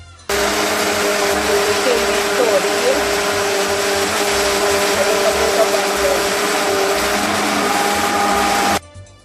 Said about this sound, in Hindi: अब इसे बंद करके फिर ग्राइंड करते हैं।